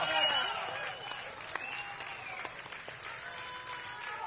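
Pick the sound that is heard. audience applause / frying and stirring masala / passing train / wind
audience applause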